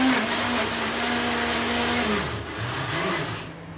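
An electric blender grinds cake ingredients with a loud, continuous motor whine that holds steady, then dips and shifts pitch as the load changes near the end, with no voices.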